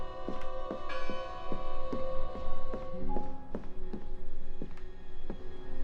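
A bell in the video game Draugen rings in a steady series of clear, resonant strikes, each leaving long overlapping tones, with soft footsteps and taps moving beneath.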